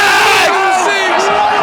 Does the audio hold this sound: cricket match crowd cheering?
yes